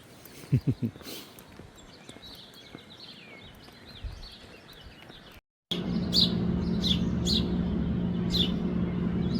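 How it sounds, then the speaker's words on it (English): Small birds chirping and tweeting, a mother bird feeding her chicks outdoors on a trail in North Carolina, with short high calls scattered across the stretch over a steady background hum in its later part. "It's a mama bird with her babies."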